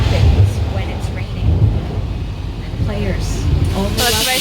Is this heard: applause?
no